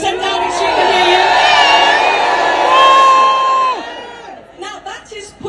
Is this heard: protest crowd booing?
yes